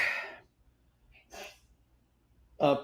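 One sharp sneeze, close and fairly quiet, followed by a short sniff or breath and another brief burst of breath near the end.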